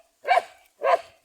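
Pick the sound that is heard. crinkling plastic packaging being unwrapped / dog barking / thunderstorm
dog barking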